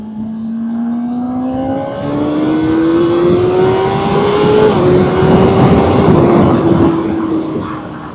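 A 2024 Honda CBR 600RR motorcycle accelerates hard through the gears on a motorway, its engine note climbing steadily in pitch over several seconds, loud and close with strong wind rush underneath.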